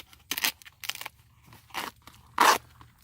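Dried luffa gourd skin being peeled by hand, four separate crisp, crackling tears spaced across a few seconds, close and dry with quiet pauses between them and no talking.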